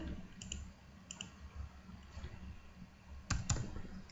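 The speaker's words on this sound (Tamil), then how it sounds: "மறுபடியும் டிடி டைப் பண்ணுங்க." A few sparse key presses on a computer keyboard entering an AutoCAD command, soft clicks scattered over a low background, with a firmer cluster near the end.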